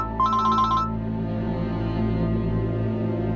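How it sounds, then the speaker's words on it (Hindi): A short electronic phone ring chirps once near the start, then fades, leaving a steady low hum and background music. "शेल्टर होम वालों का फिर फोन आ रहा है।"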